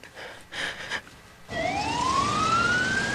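A basic life support ambulance siren starts abruptly and rises in a long, steady wail, loud and fairly close. Faint thumps and noise come before it.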